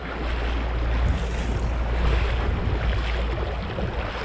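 A river current flows where tilapia swim, as a steady, loud rush of water with heavy low rumble and wind buffeting the microphone throughout.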